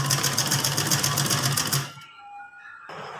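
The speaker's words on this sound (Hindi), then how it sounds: "सीधी सिलाई लगाऊँगी।" Sewing machine running straight stitches on a pair of trousers, a fast rhythmic rattling whir that stops abruptly after about two seconds, leaving quiet with faint tones.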